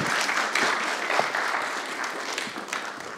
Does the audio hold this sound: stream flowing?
no